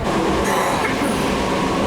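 Inside a passenger train crossing Sweden and Norway, a constant loud roar of wheels on rails fills the scene, with a brief brighter hiss rising partway through.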